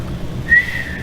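A person whistles one short, clear note that rises slightly in pitch, heard alone and close, lasting about half a second.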